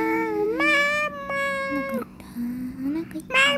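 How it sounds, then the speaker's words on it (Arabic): A cartoonish cat meows repeatedly in a Roblox game, several drawn-out, bright, close calls separated by short pauses, with a game tone sliding in between. "انا قطة. ما قطة لطيفة."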